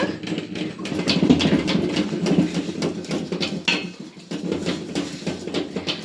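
Coconut and cardamom stirred into syrup in a pot, giving steady scraping and clinking of a utensil against metal with continuous close, fairly loud stirring and no voices.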